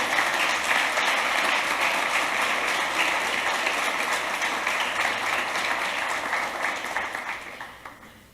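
A church congregation at a Sunday service breaks into sustained applause that fills the room, steady for most of the stretch and thinning toward the end.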